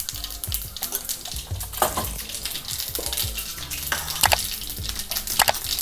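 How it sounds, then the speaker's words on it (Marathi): Mustard seeds splutter and pop in hot oil in a kadai, with sharp, irregular crackles and bursts over a steady frying hiss, close and fairly loud throughout. "तेल गरम झालं की आपल्याला आधी मोहरी टाकायची आहे अशी तळतळेल"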